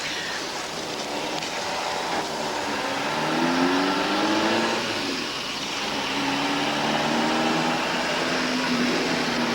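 A car driving along a road, its steady engine hum and road noise continuous and fairly loud, rising and falling slightly in pitch as it moves, with no talk.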